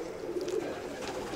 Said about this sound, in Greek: αυτά τα Περιστέρια που έχω τώρα είναι τα καλύτερα Περιστέρια που είχα ποτέ